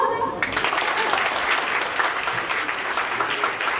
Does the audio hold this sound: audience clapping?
yes